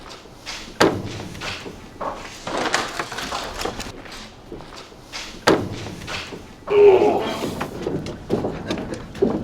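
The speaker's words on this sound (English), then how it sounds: "These are the fire doors" Fire doors in an office building swing shut with several sharp thuds and slams spread unevenly through the passage, mixed with shuffling, footsteps and handling noise.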